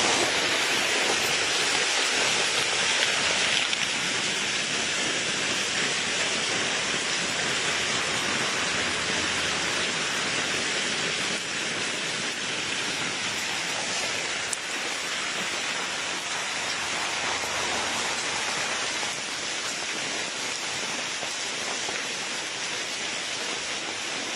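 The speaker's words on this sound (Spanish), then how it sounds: "Aquí les dejo un video de la erupción del Etna en Sicilia y en Italia." Volcanic ash from the Etna eruption in Sicily falls like rain, a steady, dense broadband hiss that holds at an even level throughout, close and continuous, with no voices.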